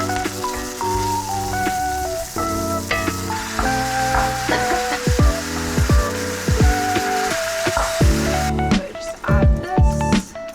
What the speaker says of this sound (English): and then I'm gonna add the pork